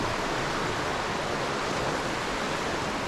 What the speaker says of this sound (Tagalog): Yan yung ilog o.